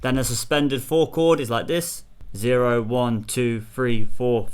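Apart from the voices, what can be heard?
None of the usual background noises is heard.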